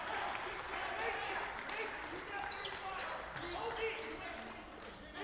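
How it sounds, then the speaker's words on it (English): A lively crowd fills a high school gym at a boys basketball game between Fairfield Ludlowe and Greenwich, with steady crowd noise, scattered cheers and sneaker squeaks under continuous talk. "Very lively crowd here inside Fairfield Ludlowe."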